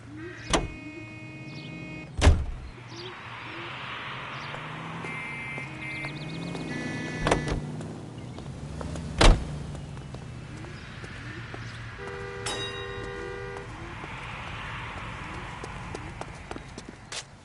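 A car driven in the video game L.A. Noire gives a steady low engine drone, broken by a few sharp knocks and short tonal honks, with no voices.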